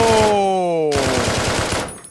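A gold AK rifle fires in a video game, a rapid full-auto burst of close, loud gunshots with a game tone sounding over it.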